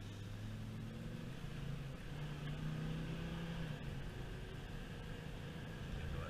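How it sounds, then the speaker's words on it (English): A 1998 Ram 2500 pickup with a V10 engine and aftermarket exhaust accelerates hard up an incline, heard as a low, steady engine drone from inside the cab that swells slightly as it climbs. "it's a pretty good incline, so we're gonna hammer down on this big V10"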